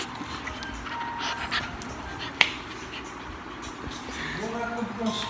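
A dog pants in quick, steady breaths close by, with a sharp snap near the middle and someone talking to it through much of the clip.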